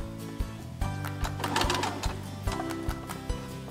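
A sewing machine stitches a small pincushion in short bursts, its rapid mechanical chatter starting and stopping with sharp clicks, close and moderately loud, with no voices.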